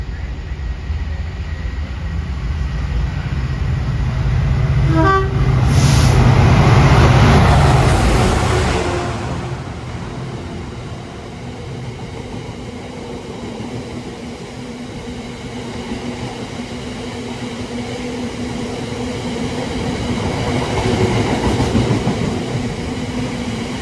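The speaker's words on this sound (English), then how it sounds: "We have a very late freight coming in." A late-running freight train on the Chiltern Main Line rumbles past close by with a steady heavy roar that swells and fades, plus a brief high horn tone early on.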